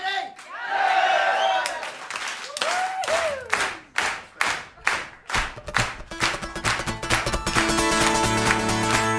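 An audience at an Irish spring festival concert in Tübingen, Germany, first shouting and cheering, then clapping along in a steady rhythm as the band kicks in with instruments.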